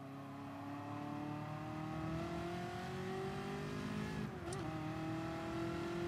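A Ferrari F40 in the racing game Gran Turismo Sport, its engine droning steadily with falling pitch before a quick downshift blip and a short jump in revs. The sound is fairly quiet and continuous, with no talk.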